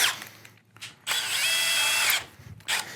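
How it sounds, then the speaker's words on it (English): A power drill fitted with a 5/32 bit bores screw holes for a door handle on a panoramic door, with a short start, a sustained whining run of about a second, then brief bursts as the bit finishes. "You're going to need to pre-drill your holes yourself."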